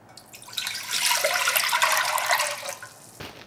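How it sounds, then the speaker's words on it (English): Anchovy kelp stock is poured into a pot, making a steady liquid rush that swells after a moment, holds for about two seconds and then tapers off, close and moderately loud. "And then 6 cups delicious anchovy kelp stock or vegetable stock."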